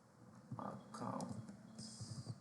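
Computer keyboard keys being typed in short irregular bursts of soft clicks, close up, over a quiet background hum while setting up a virtual machine.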